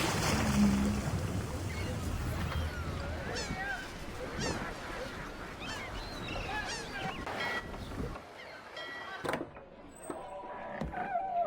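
Sailing ship crossing open water in an Assassin's Creed game, with wind and rushing sea under scattered honking bird calls, later thinning out to quieter ambience with a few sharp accents.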